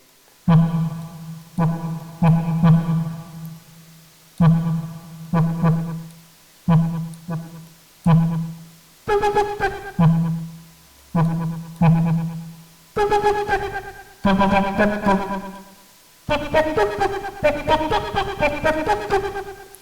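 Rhythmic synthesizer notes from the Heat Up 2 software instrument play in short bursts, each note trailing off with repeating delay echoes, the pattern shifting to brighter tones midway.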